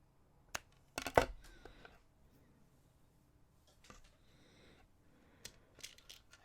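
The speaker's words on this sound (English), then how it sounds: "scissors and snip it off" Scissors snip through the cord ends of a handmade knotted necklace, giving two or three sharp close cuts early on and a few fainter clicks later, with quiet handling noise between and no talking.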